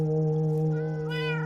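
A cat meows in a farming video game, a drawn-out, steady tonal cry that rises in brightness toward the end, loud and alone.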